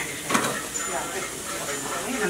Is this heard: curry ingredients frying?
yes